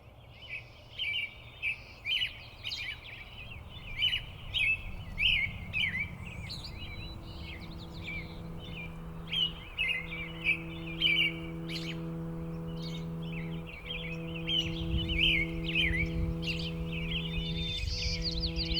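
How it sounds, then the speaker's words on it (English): Birds sing in a dawn chorus before sunrise on a flower farm, bright chirps and trills layered over a low steady drone and a faint insect buzz, continuous throughout. "The dawn chorus is the point in the morning before the sun comes up where all of the birds are waking up and they are starting to sing."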